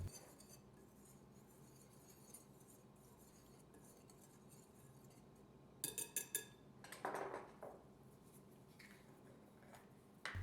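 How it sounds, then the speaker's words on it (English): A spoon stirs dry bread ingredients with instant yeast in a bowl for a no-knead Mediterranean olive bread. The sound is quiet and soft, with a short burst of clinking and scraping near the end. "I'm going to give it a little stir just to mix the ingredients."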